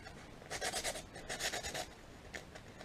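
Surface of a fishing rod blank being roughed up before epoxy, quick bursts of close, soft abrasive rasping in short strokes, two clusters then a brief final scrape.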